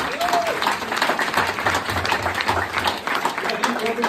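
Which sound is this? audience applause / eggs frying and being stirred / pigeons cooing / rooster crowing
audience applause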